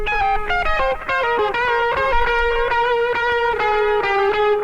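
A dry mix with delay and no Valhalla Vintageverb reverb: a bright, up-close melodic line of distinct plucked notes with faint echo repeats, over a low thumping pulse, with no voices.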